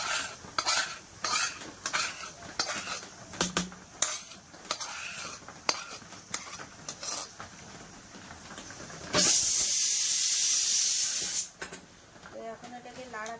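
Puffed rice is stirred with jaggery syrup in a small metal bowl to make khoi murki, with repeated scraping and rustling strokes close by. A loud, steady hissing rush takes over for a couple of seconds near the end.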